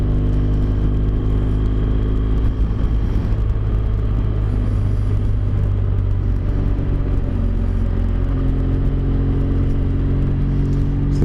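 KTM and BMW motorcycles pass on a smooth tarmac road, heard from another moving motorbike as a loud, continuous engine rumble and whir mixed with wind noise, with no clear separate passes standing out.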